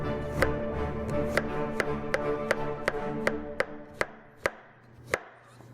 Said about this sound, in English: Now I'm going to slice up a few mushrooms for my